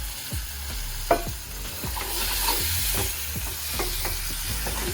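Dried fish being stirred into a masala as it fries in a pan, with a steady sizzle and repeated scraping stirs of a spoon through the mixture, close and with no talking.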